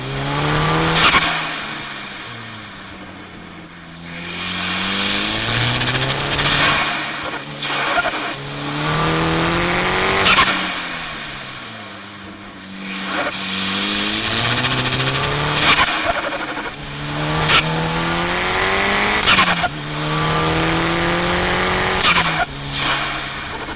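A VW Jetta 4WD turbo sleeper with Golf R conversion revs hard through its exhaust, the engine pitch rising and falling in repeated loud sweeps with gear changes, close and aggressive.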